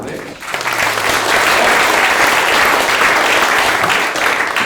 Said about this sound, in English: you meant to clap for them all at the end